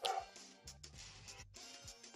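Dog barking in the Pokémon Moon video game, a few short yipping barks under music and game sounds.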